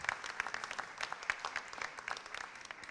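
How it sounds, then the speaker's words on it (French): Applause from an audience at a French public event on health-sector careers, a steady patter of many hands clapping at moderate volume across the whole stretch, with no talking over it. "Merci beaucoup, on peut vous applaudir également."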